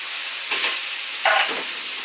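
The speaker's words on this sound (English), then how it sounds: "right now, I'm going to add my pineapple chunks, juice and all, the whole lot," Pineapple chunks and their juice tipped into a hot pan of peppers and onions, giving two bursts of steamy sizzling over a constant frying hiss, close up with no talking.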